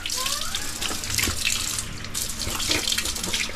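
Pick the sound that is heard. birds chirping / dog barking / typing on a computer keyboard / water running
water running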